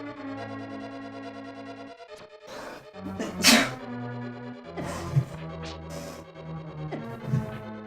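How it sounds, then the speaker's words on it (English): A person sneezes while playing a Zelda game, a single sharp, loud burst standing out over steady background game music. "Sneezing while playing Zelda is not advised."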